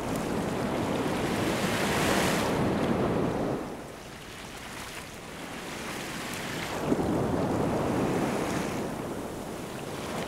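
Sea waves break and wash onto a beach in loud, rolling surges with wind across the microphone, easing briefly in the middle before another wave crashes in.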